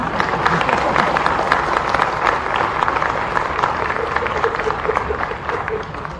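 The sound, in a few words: audience applause at a chief minister's event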